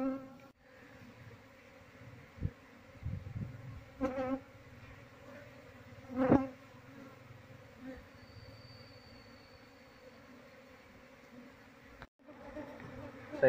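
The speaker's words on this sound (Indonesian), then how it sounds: "Ini sebagian lebahnya masih berkerombol di sini." Apis cerana honeybees still clustered near a hive, giving a faint steady buzzing hum with a few soft knocks and handling noises close by.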